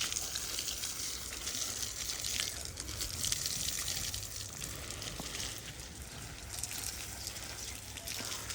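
Water poured from a hose or container onto dry lemon plants in a village garden, a steady continuous splashing and gushing that runs throughout at moderate loudness.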